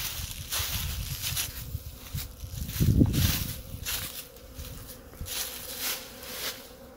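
Honeybees buzz close by on top of a sunny hive, a steady insect drone with a louder swell near the middle, and no voices.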